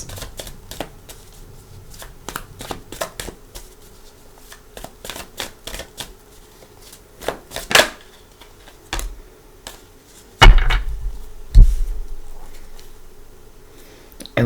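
Tarot cards being shuffled by hand to draw a final card, a run of soft riffling flicks and taps followed by louder sharp card slaps and thumps, close up with no speech.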